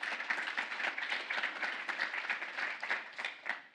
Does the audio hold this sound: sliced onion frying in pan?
no